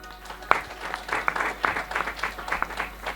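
Scattered clapping from a small audience at a stock-market podcast recording comes in uneven bursts of a few claps, with murmured voices underneath.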